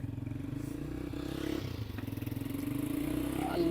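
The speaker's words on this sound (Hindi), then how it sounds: "तारिक साहब की मोटरसाइकिल जो है ना वो स्टार्ट हो चुकी है" A motorcycle engine idles and runs steadily at night outside a family home in Lahore, a close, throbbing low putter that rises a little toward the end, with faint clatter and no clear speech.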